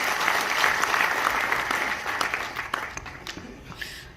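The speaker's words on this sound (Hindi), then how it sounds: "तालियों" Dense crowd applause rises after a speech at the opening of a new teaching block at CRSU, holding loud and steady before thinning into scattered claps that fade out.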